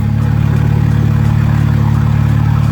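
A Volvo drift car's engine runs loud and steady throughout, with a deep, constant idle-like drone and little change in pitch.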